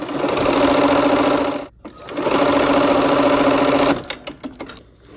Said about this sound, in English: Okay, so we'll sew those.